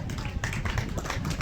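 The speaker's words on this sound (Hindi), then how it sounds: "आपकी तालियां बजती रहे।" Audience applause at a memorial program in honour of the late Captain Lalchand Yadav: dense, steady clapping from a crowd that fills the whole short stretch without a break.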